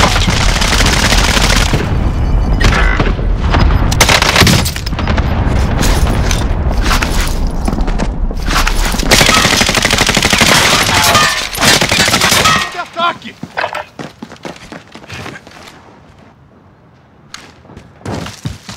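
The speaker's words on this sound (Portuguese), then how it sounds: "Ataque de dispersão lançado." Cluster airstrike explosions and gunfire in Call of Duty Warzone: a long, loud barrage of booming blasts and dense shooting that stops suddenly, leaving scattered sharp shots and thuds fading out.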